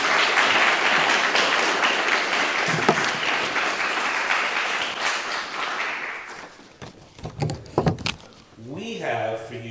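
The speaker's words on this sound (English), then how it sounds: "let's give them a round of applause." Audience applause at a high school poetry recitation competition, a dense, steady wash of clapping for about six seconds that fades, followed by a few scattered bumps and a brief voice near the end.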